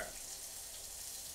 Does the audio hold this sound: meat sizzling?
yes